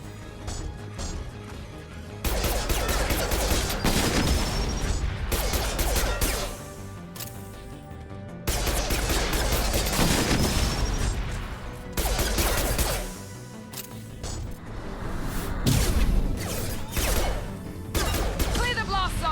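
Weapons fire in the sci-fi shooter Mass Effect 2: loud bursts of rapid gunfire and crashing impacts come in long volleys separated by short lulls, with voices talking amid the shooting.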